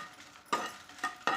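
Red chillies dry roasting in a pan for idli podi are stirred in a few quick, quiet scraping strokes.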